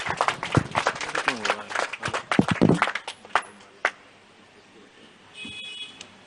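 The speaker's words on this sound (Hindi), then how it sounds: "बहुत जोरदार तालियां आप लोग बजा दें।" An audience at a Bhopal staff program claps enthusiastically in a close, uneven burst of many hands, with voices mixed in, then tapers off to scattered claps and faint room noise with a brief electronic tone near the end.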